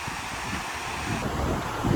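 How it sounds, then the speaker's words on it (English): Wind gusts across the grounds at Six Flags Magic Mountain theme park near the front entrance, making a soft, continuous rumble and rustle on the microphone that grows a little stronger toward the end. "You can tell it's windy here just as well too."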